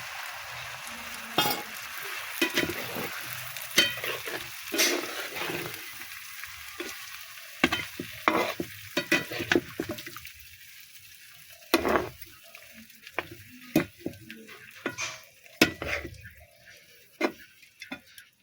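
Chicken being sautéed in a pan after milk is poured in, stirred with a spoon that knocks and scrapes the pan in irregular, sharp clicks over a low simmering hiss, close and continuous for a long stretch, with no talk.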